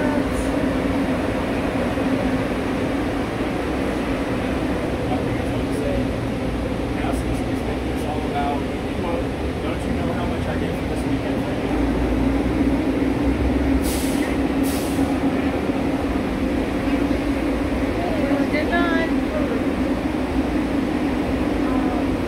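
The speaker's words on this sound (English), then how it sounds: "And here comes the tram." A tram arrives along the Las Vegas Strip, a steady mechanical rumble and hum with faint hissing and squeals, continuous throughout, while people talk nearby in a busy outdoor night setting.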